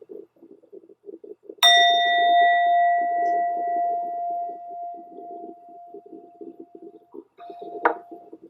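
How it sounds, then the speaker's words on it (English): A meditation bell is struck once, giving a clear, bright ring that hangs and slowly fades over several seconds above a faint murmur of a voice. "So I'll ring the bell here"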